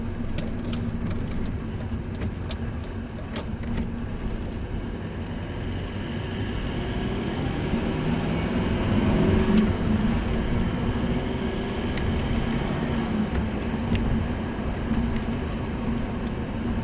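Honda FR-V 2.2 i-CTDI diesel heard from inside while driving, a steady low engine drone blended with road and tyre noise that swells slightly midway, continuous with no talk.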